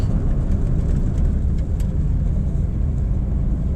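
A 2023 Suzuki Dzire engine downshifting into second gear, a steady loud low rumble of the car's engine running continuously throughout with no talk.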